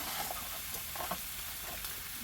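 Fish cooking in a pan over medium-low heat gives a steady, close sizzle and fry hiss, with faint stirring scrapes and no talking.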